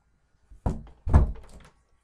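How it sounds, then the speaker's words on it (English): A bedroom door gets pushed shut, making two dull thunks about half a second apart, close and fairly loud, with quiet before and after. "close my door, by the way"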